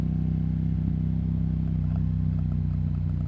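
Yamaha MT07 motorcycle ridden on a bumpy road, a steady low engine drone with faint clatter throughout, close and continuous.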